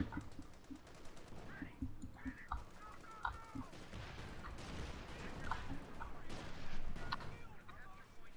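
Bursts of machine gun fire rattle amid a busy battlefield in Company of Heroes 2, with American forces fighting, scattered gunshots and rumbling combat noise rising and falling over several seconds.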